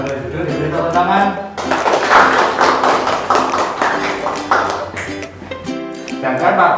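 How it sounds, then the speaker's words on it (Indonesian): Classroom students break into a burst of applause lasting about four seconds, dense and steady, with a teacher's voice speaking just before and after. "diberi tepuk tangan"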